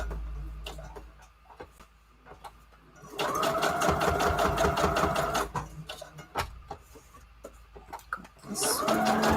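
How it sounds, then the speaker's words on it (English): A sewing machine stitches around the edge of a paper envelope, with bursts of rapid mechanical needle clatter separated by quieter pauses with soft clicks and handling, close by. "Let me get close to the machine because I actually have to like sew around the edge for this one."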